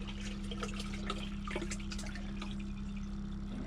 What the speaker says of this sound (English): A bit of fresh water in here.